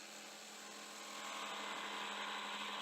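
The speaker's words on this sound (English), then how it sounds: "I used a Forstner bit in my handheld drill" Handheld drill spinning a Forstner bit into wood, a steady high-pitched whine that rises and grows slightly louder partway through as the bit bites, heard alone and fairly close.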